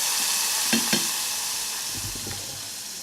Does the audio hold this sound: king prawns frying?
yes